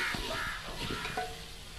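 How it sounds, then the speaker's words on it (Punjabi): Several crows caw in short harsh bursts, somewhat distant and fairly faint, with a few irregular calls over quiet background and no voices. "ਅੱਜ ਕਾਂ ਬਹੁਤ ਬੋਲ ਰਹੇ ਨੇ"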